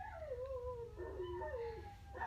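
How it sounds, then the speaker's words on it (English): Dogs howl in a wavering, song-like pitch that rises and falls, close and clear, with a second voice overlapping partway through and no speech. "My dogs sing."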